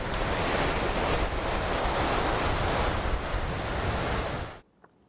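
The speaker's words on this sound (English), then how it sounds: "The only issue is this is very windy here." Strong sunset coastal wind on the Moray Coast roars against the microphone in a dense, steady rush, then cuts off abruptly near the end, leaving near silence.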